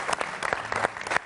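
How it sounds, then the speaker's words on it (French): Brief burst of clapping from a talk-show audience, quick uneven claps close by over a short moment. "HKM, on l'applaudit très très fort"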